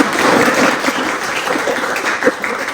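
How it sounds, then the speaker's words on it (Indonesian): Students clap at the end of a classroom lesson, a moderate, steady patter of many hands that keeps going without a break. "Aplaus bagi kalian semua."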